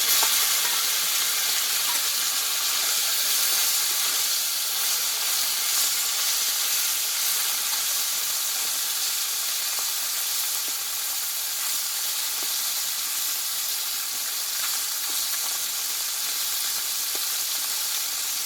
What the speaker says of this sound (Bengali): মাছগুলোকে দিয়ে আমি মাছগুলো ভালোভাবে ভেজে নেবো